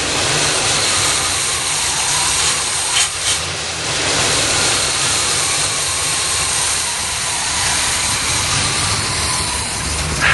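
A 1978 V8 in a classic G-body car runs rough while still cold, giving a steady, loud broadband roar and hiss that holds without a break, with no voices over it.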